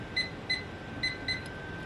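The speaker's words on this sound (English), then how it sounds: "I'm going to set my timer for 15 minutes" A kitchen timer gives four short, high electronic beeps in an uneven pair-like rhythm as it is set for fifteen minutes, close and fairly quiet over low room hum.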